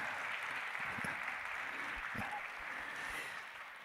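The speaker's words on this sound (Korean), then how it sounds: "박수 한번 주세요." A church congregation applauds during a guest revival meeting at a Korean church in Los Angeles. The clapping is sustained and moderately loud, with a few faint voices under it, and it tapers off at the end.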